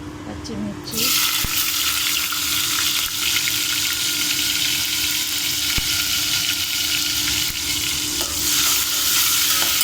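Green chillies and onion dropped into hot oil for home-made egg fried rice: a loud sizzle bursts in after about a second and holds steady to the end, with faint stirring scrapes beneath.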